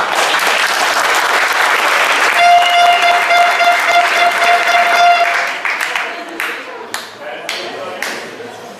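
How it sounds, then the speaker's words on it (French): An audience at a Paris event breaks into sustained applause that holds strong for about five seconds, then thins into scattered claps while a voice speaks over the tail end. "donc je pense que ça peut s'applaudir."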